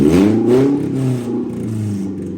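A Toyota 3SGE BEAMS engine swapped into a BMW E30 and running on a stock Toyota ECU gives a quick blip: the revs climb sharply, then drop back to a steady idle, loud and close.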